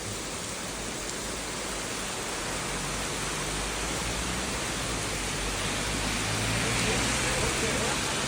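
Steady rain on a rainy day falls as a dense, continuous hiss that stays even and fairly loud throughout, with no voices.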